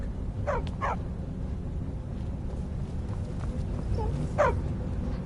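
A dog in the video game Skyrim gives a few short barks and a whimpering cry, the last one louder, heard alone over a steady low ambient background with no talking.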